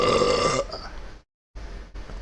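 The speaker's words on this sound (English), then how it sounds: "This belch is for you." A loud, drawn-out belch from a man drinking strong hard ginger beer, rumbling for over half a second before trailing off, followed by a pause and faint breathy noise.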